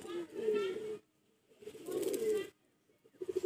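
A Chotiyal pigeon coos in two clear, close bursts of low rolling notes separated by near silence, with a third beginning at the end.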